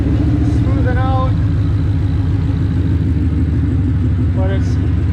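Car engine idling steadily after a stall and restart, a loud low rumbling throb running throughout, with a person talking over it and occasional chirping in the background.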